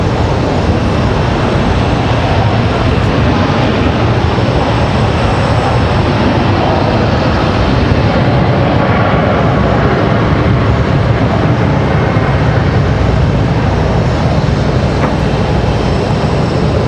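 A Breeze Airways airliner taxis at Raleigh-Durham International Airport, its engines giving a loud, steady broadband roar that holds constant throughout with no talking.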